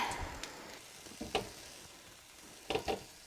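Brussels sprouts cooking in a Ninja Foodi Grill air crisper, with a faint steady sizzle and a few sharp clicks and taps of the basket, close and quiet, with no talk.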